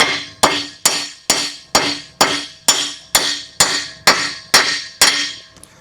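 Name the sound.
hammering pins into a Columbian #206 vise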